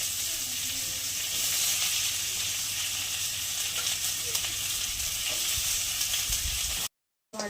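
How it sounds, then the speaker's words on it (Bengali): Onion frying in hot oil with a bay leaf in a pan for a thin potato and egg curry, a loud continuous close sizzle with light stirring scrapes, cutting out abruptly just before the end. "একটু ভেজে নেবো পেঁয়াজটা"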